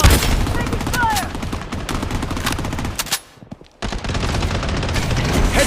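Gunfire rattles in the shooter game Blood Strike with an AK loadout, dense close bursts of rapid shots that stop for a brief quiet moment and then resume, with in-game voice callouts mixed in.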